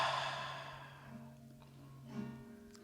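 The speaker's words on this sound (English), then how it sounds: "So just take a deep breath. Exhale through your mouth." A slow, deep breath let out through the mouth during a prenatal yoga cool-down, a soft airy exhale fading over a few seconds, close and quiet with no talking.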